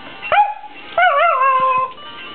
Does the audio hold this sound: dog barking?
yes